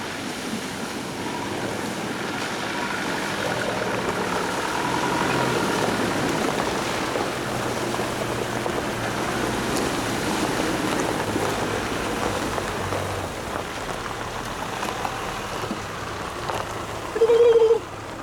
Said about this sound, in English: Got another creek crossing here, it's going through now.